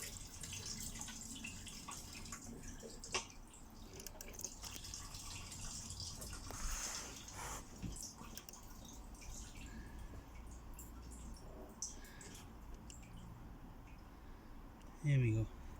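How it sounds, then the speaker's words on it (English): Fuel draining out of an old fuel pump removed from a 2005 Ford Focus 1.4 petrol hatchback, a steady trickle and drip of liquid under a voice, with workshop clatter around it. "there was a bit of fuel in it, so we just drain that out"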